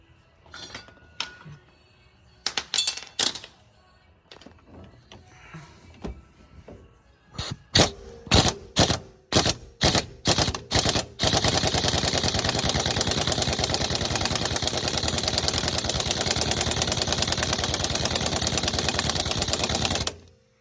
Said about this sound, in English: So now I'm gonna put the 14mm on the impact and slowly give it some gas.